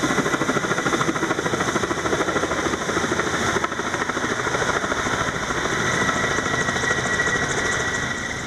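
Fire service helicopter flying over a wildfire, its rotor producing a steady, loud, rapid thumping drone that holds at an even level from start to end with no talk.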